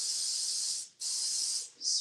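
Cooking spray hisses steadily onto a pizza pan in two long, bright bursts with a brief pause between them, then a short third spritz, close and loud with no talking.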